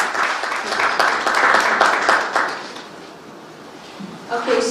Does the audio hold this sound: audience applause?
yes